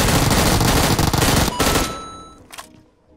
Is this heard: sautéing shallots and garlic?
no